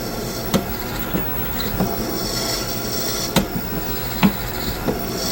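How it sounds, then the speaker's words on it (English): A wood lathe spins as a wooden cattail is turned, a steady rumbling, grinding whir with a rasping texture, marked by several sharp scraping ticks as the tool contacts the piece. "Turn on the wood lathe and do the same thing."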